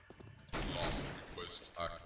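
A dense burst of gunfire in the video game CS:GO JailBreak erupts after a brief quiet lead-in, with rapid overlapping shots fading out over about a second and a faint voice underneath.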